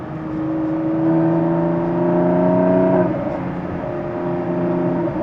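A Porsche 997 fitted with a PSE sports exhaust cruises at around 33 mph and just over 3,000 rpm, its engine humming a steady tonal drone that rises slightly, dips at a shift, then settles, heard from inside the car without talk.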